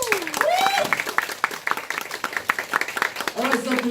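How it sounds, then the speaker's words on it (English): Audience at a Toastmasters meeting breaks into lively applause, a crowd of claps crackling throughout, while voices call out over it at the beginning and end. "give them a big applause"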